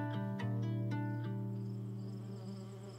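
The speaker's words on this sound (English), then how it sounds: "This is our observation hive. They're here all year round." Honeybees in an indoor observation hive give off a steady, dense buzzing hum with layered harmonic drones, close and continuous for about three seconds, with no talking.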